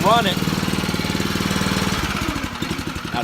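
Power spreader's small engine running steadily after a pull start, a close, loud rapid chugging throb that changes pace near the end, with no talk.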